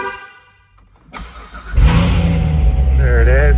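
A 2017 Corvette Z06 3LZ with a 650 hp V8, automatic gearbox and exhaust ports open in track mode. After a quiet moment the starter cranks, the engine catches with a loud, close bark, then settles into a deep rumble and revs.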